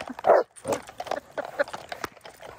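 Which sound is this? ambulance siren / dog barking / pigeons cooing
dog barking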